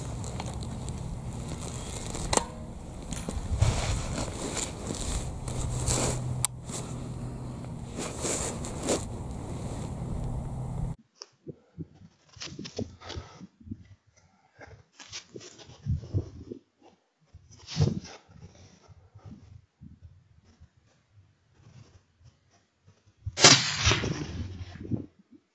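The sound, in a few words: rifle shot from a Sako 6ppc at a fox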